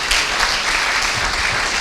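Church congregation applauding during a Sunday worship service, dense and loud continuous clapping from a large crowd, close and steady for the whole stretch with no voices standing out.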